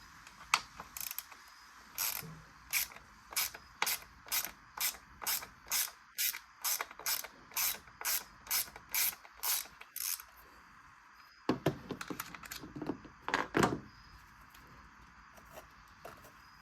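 A ratchet turns a T27 Torx bit to remove the MAP sensor on a Ford Fiesta ST, a close, quiet, regular series of clicking strokes followed by a few faster clicks and scraping handling noises.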